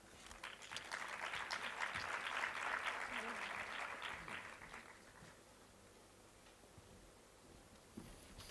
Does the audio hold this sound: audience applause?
yes